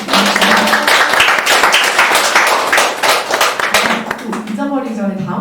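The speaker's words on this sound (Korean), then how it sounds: "다시 한번 박수 부탁드립니다." A lecture audience claps after a talk on the climate crisis, with brisk, close-up clapping that tapers off toward the end as a voice begins speaking over it.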